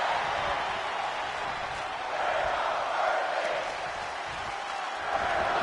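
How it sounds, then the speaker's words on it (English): Pro wrestling crowd at a live event in a large arena chanting in unison, a dense steady roar of many voices that swells slightly and continues throughout, with no clear single speaker. "The crowd saying we're not worthy here tonight"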